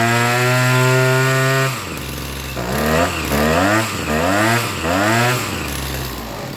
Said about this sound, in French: Il a calé tout seul parce qu'il n'y a pas assez de carburant qui arrive dans le moteur.